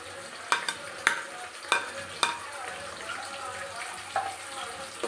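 Chopped tomato hits frying mutton chaakana in an Uttara Karnataka-style pan, bringing a steady sizzle broken by a series of sharp spoon scrapes and clanks as the mixture is stirred.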